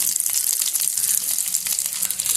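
Urad dal, dried chillies and small shallots fry in hot oil in a pan, a loud, continuous crackling sizzle that holds steady throughout, close up, with no speech.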